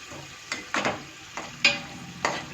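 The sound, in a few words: biryani ingredients lightly frying in oil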